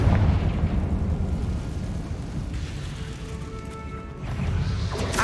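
Rumbling explosive blasts from the Confringo blasting spell in Hogwarts Legacy, a heavy boom at the start and another swell near the end over a continuous noisy roar.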